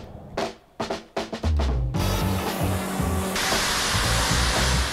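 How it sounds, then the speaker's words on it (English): A foam cannon sprays Wax Off shampoo onto a car to strip old wax, giving a steady close hiss after a few short bursts. "I'm using this through the Arva Premium Foam Cannon just to strip away any old waxes"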